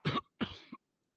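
Two sharp coughs close by, a longer rasping one followed by a short throaty tail, heard during a Resident Evil 4 VR play session, with silence after.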